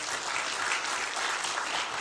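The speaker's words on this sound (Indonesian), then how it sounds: "Yang bangga jadi orang Indonesia coba tepuk tangan." An audience at an Indonesian stand-up comedy show breaks into loud, dense clapping that carries on steadily for a couple of seconds.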